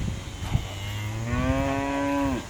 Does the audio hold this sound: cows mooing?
yes